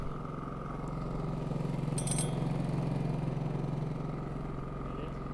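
A WEN 56380i 3800-watt inverter generator running at a steady, even drone with a low hum, moderately quiet, with a brief higher rattle partway through and no talking.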